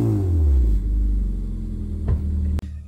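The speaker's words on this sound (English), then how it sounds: "let me go ahead and give you guys a couple of revs so we could actually hear it." A Toyota Matrix fitted with headers rumbles loudly close by, its deep revving swell easing back to idle before a couple of sharp clicks and an abrupt cutoff.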